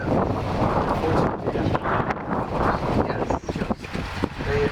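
Strong, gusty wind buffets the microphone at an open discus-launch glider flying field. A loud, continuous roar surges and dips throughout.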